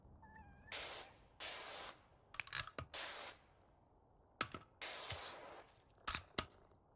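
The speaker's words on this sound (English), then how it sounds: "Oh, I can set it to auto spray." Pressure washer auto-spray in the Powerwash Simulator 2 video game, several hissing bursts of spray of about a second each, broken by short clicks and gaps, fairly quiet and with no talk.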